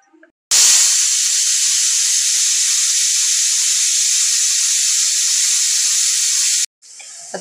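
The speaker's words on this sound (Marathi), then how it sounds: "आता आपली कुकरची शिट्टी पण झालेली आहे" A pressure cooker of vegetables for pav bhaji vents steam through its whistle, a loud continuous hiss starting abruptly and holding steady for about six seconds before cutting off.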